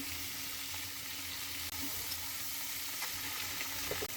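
Long beans fry in mustard oil in a pan, giving a continuous, even sizzle at moderate loudness with a few faint clicks and no voices.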